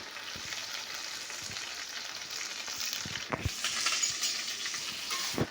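Home-made masala of coriander, cumin and whole spices sautés in a pan for masale bhat, a steady soft sizzle punctuated by a few light spoon clinks and taps, close and fairly quiet with no talking.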